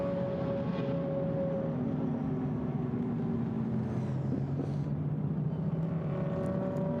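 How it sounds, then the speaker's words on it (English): Mercedes, Porsche and Ferrari GT race cars roll slowly down pit road at Paul Ricard after a race, a steady low engine drone with a sustained tone, moderately loud and continuous without talking. "Down the pit road comes the winning Mercedes, the second place Porsche and the third placed Ferrari"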